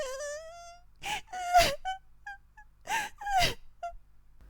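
A woman sobs and wails in drawn-out, wavering cries, several moaning bursts with gasping breaths between them, loud and close with no talk over them.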